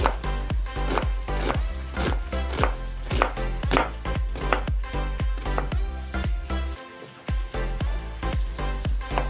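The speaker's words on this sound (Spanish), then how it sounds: "Ahora vamos a proceder a cortar nuestra cebolla." A knife chops an onion on a board for a northern Mexican discada, with rapid, sharp, evenly spaced chopping knocks close by, a brief pause near the end, then more cuts.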